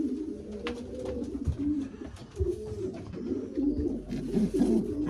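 Racing pigeons coo in a loft, a close cock bird among them, with repeated low throaty coos overlapping in an uneven rhythm alongside faint rustling and shuffling.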